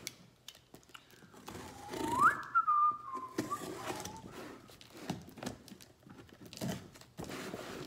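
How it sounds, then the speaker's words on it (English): A person whistles a short rising and falling tune while unboxing toys, with light clatter and handling noises around it. "Not sure why I'm whistling"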